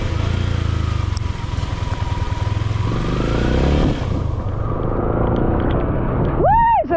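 A motorcycle engine rumbles and churns loudly while riding through flood water, with splashing clatter, then eases off as a voice calls out at the end.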